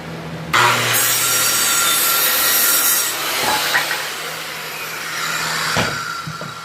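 A saw cuts wood for workbench legs guided by a makeshift fence, a loud, close rasping stroke that runs continuously for several seconds before easing off near the end.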